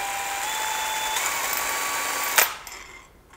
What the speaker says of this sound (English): Spins that nut up for us.